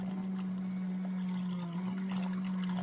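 A hot water tap in a self-built camper van sputters and gurgles as the pump pulls air, with a steady pump hum under irregular watery spits and splashes.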